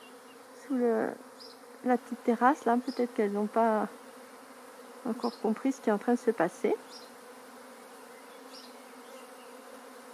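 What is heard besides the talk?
swarm of honey bees buzzing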